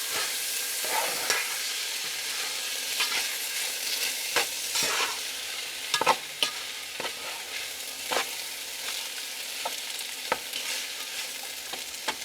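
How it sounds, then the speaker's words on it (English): Fried rice is stirred in a pan with soy sauce, a steady bright sizzle under repeated spatula scrapes and taps, close and continuous, with no speech. "We're going to add 2 tablespoons of soy sauce. Stir that around."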